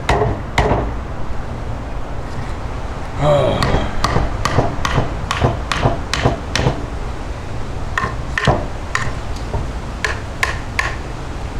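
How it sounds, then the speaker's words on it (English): Hammer blows strike a Cold Steel Verdict knife near its Triad lock, about a dozen sharp metallic knocks in an uneven rhythm, some in quick pairs, loud and close over a steady background hum. "Don't hit the lock, because then it'll go like that. But you hammer down here."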